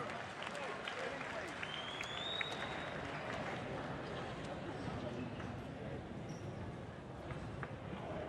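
A boxing fight night crowd applauds the boxers, with dense clapping and cheering spread evenly through a large hall and staying steady and fairly distant throughout.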